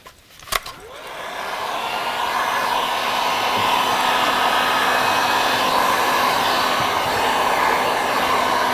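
Heat gun blowing on holographic tint film over a car tail light, a sharp click then a loud, steady close-up fan roar that holds without break.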